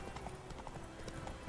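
Rhythmic clip-clop of horse hooves at a gallop in The Witcher 3: Wild Hunt, steady and close throughout, with faint game ambience underneath.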